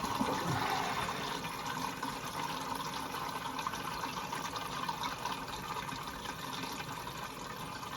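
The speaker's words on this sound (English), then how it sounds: "it's filling up" After a lever repair, a toilet tank fills with water in a steady, soft hiss and trickle that holds at an even level throughout.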